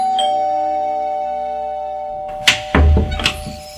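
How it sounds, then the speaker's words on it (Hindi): A doorbell chime in a horror story rings as one sustained, bright tone that fades slowly, followed by a couple of heavy, close thuds. "थोड़ी देर बाद ही डोरबेल बजी।"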